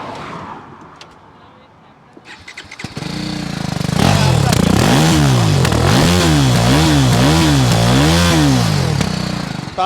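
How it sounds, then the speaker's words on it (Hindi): A BMW G 310 GS motorcycle exhaust fires up after a quiet start, then revs repeatedly in a rhythmic rising-and-falling pattern, loud and close. "सबसे पहले मैं आपको BMW का एग्जॉस्ट सुनाता हूँ"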